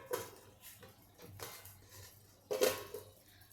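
A cooking pot in a home kitchen lifted and set aside on the stovetop, giving a few metallic clatters and scrapes with one louder clunk near the end, close and unaccompanied by speech.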